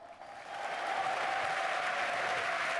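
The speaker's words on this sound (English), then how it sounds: "Hey, I heard the crowd this time." A crowd at Gamescom applauds and cheers a guest, Blur Studio co-founder and Deadpool director Tim Miller, as he takes the stage. The applause swells within the first half second, then holds as a dense, steady wash of clapping.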